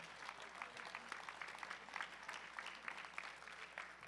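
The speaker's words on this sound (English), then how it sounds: "Please give them a round of applause." An audience applauds the organizers at a powerlifting meet, with brisk, dense clapping that holds steady for several seconds and sounds moderately distant in a large hall.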